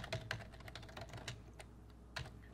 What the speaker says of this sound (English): And then we'll type out account number.